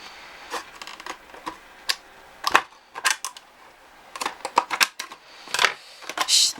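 Small scissors snip through packaging in quick, irregular clicks and cuts, close and fairly crisp, with short pauses between bursts.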